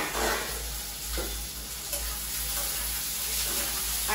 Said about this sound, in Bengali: এবার আমি পেঁয়াজটা ভাজবো।